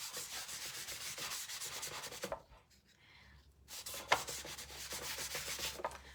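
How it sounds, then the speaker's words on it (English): A brush rubs wood stain back and forth into a wooden board for a no-soliciting sign. The scrubbing is close and steady, with a quiet pause in the middle before the strokes resume. "I'm just going to paint, almost just rub back and forth, let the"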